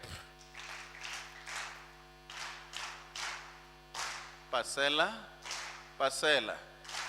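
Audience at a SALGA event doing the rhythmic SALGA clap, a series of patterned group claps with a voice calling out between them over a steady mains hum.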